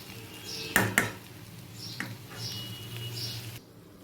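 Beetroot curry frying in a pan, a few sharp metallic clinks and scrapes of a spoon against the pan over a low steady sizzle, then the sound cuts off near the end.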